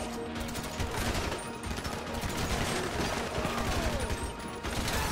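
Rapid automatic gunfire in a shootout during a bank heist in Grand Theft Auto V Online, dense bursts of shots with mechanical clatter, loud and continuous with hardly any pause.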